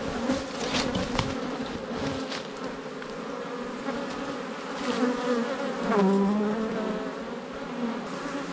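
Honeybees buzzing in a steady, dense drone outside the hive at an apiary during end-of-season work, with individual bees passing close and swelling louder at moments.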